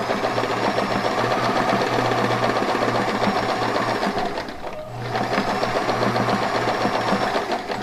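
A sewing machine runs steadily, stitching right over a fabric edge on a toe cover, with a strong continuous motor whir that briefly dips near the middle before resuming at full speed.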